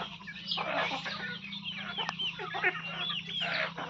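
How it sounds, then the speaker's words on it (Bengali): Chickens and ducks cluck and call busily, close by, as they gather to peck at scattered rice, a steady overlapping chorus with no talking. "আমার হাঁস মুরগি"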